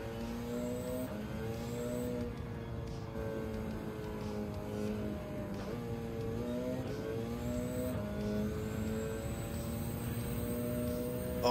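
Race car engine in Gran Turismo 7 on the Nürburgring. It revs loudly and continuously, with pitch rising and falling through gear changes as the car is thrown around corners.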